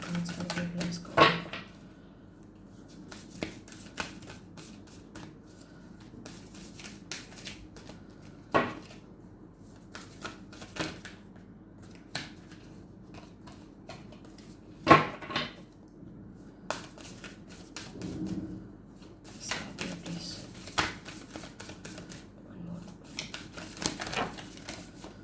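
Oracle cards handled and shuffled in a quiet room, soft scattered card flicks and taps with occasional sharper clacks, faint and close.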